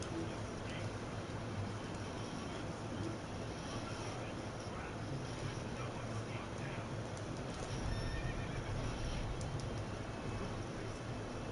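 A horse whinnies in the Dynasty Warriors 8 Xtreme Legends video game, set against a steady bed of game battle noise with hoofbeats, all fairly quiet and unbroken.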